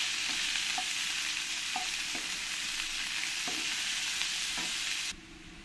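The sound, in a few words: onions frying and being stirred in a pan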